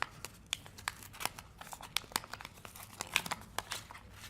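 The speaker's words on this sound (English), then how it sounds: "First of all, I'm going to open up this envelope." Paper crinkles and tears in quick, close bursts as a stuck-down sealed envelope is pulled open at a breakfast awards event, fairly quiet with no talk.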